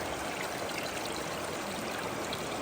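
Water surges steadily through a gold sluice box at an outdoor mining site in southern Oregon, a dense continuous rushing and gurgling flow close by with no talk.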